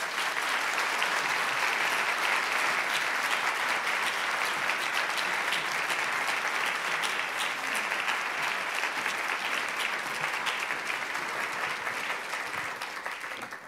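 Warm applause from a lecture audience welcoming a law school speaker, a steady dense patter of many hands clapping at moderate distance, sustained throughout and tapering slightly at the end.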